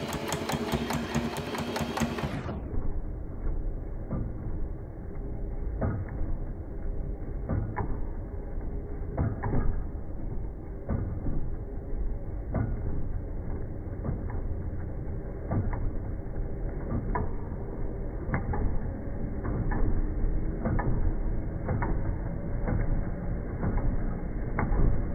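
A sewing machine stitches bunting in a steady, continuous mechanical whir with regular needle clicks, close and moderately quiet, running for a long stretch with no talking.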